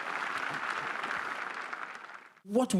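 Church congregation applauding, a dense, steady patter of many hands that carries on for over two seconds before cutting off, followed by a brief burst of speech.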